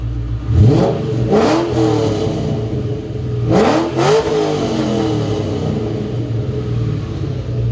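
A 2003 Ford Mustang Cobra Terminator engine revs hard twice through its exhaust, each burst rising in pitch and then falling back to a steady, rumbling idle.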